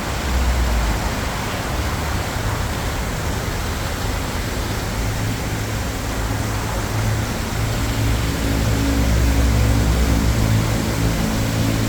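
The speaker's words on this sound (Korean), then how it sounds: "물소리가 아주 시원하게 들립니다" Water pours steadily over a waterfall in a landscaped apartment-complex park beside a road in Busan, a loud, unbroken rushing roar with no voices.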